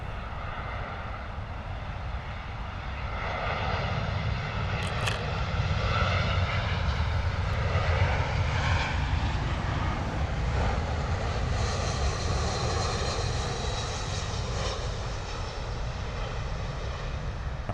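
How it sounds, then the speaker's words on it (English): A British Airways Airbus A320 lands at London Heathrow: a loud, sustained jet engine roar with a whining harmonic tone that builds and holds, then eases slightly, with no voices. "British Airways A320 coming in."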